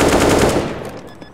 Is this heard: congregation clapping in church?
no